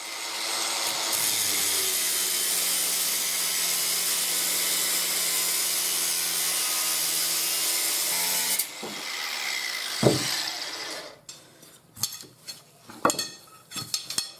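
A piece is cut from a steel bar, with a steady, continuous grinding or sawing whine for about nine seconds, then scraping, clanks and handling knocks as the cut finishes and the bar is moved.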